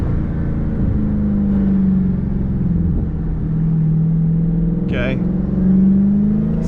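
A Dodge Challenger Hellcat Redeye is under way with a steady, loud, low engine drone and slight rises in pitch as it pulls forward, heard from inside the car with a brief spoken word over it.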